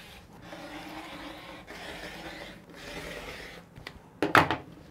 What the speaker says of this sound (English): So I'm gonna go ahead and cut the rest of this.